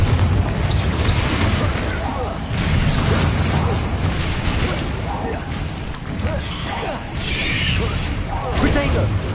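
The Confringo blasting spell in Hogwarts Legacy lands in heavy, rumbling explosive bursts that roll on continuously, with a character's voice calling out in the midst of the noise.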